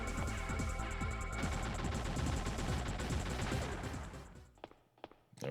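Rapid continuous gunfire in T.R.A.G.: Mission of Mercy, a dense machine-gun-like stream that fades toward the end, leaving a few isolated thuds.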